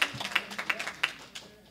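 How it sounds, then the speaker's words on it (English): Scattered applause from a small audience at an MLS breakfast meeting: a handful of distinct hand claps in an uneven run, fairly close and modest in volume, thinning out and fading toward the end. "let's give them a round of applause"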